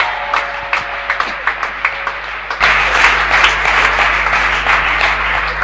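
A church congregation claps, first in scattered rhythmic claps and then in a sudden, full, loud burst of applause that carries on to the end.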